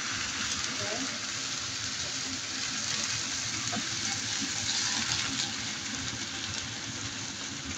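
Water is added to a hot pan of broccoli, mushrooms, tofu and chili, producing a steady, close hiss and sizzle of steam and frying that holds evenly throughout, with faint talk underneath.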